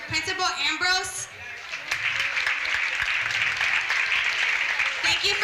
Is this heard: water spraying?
no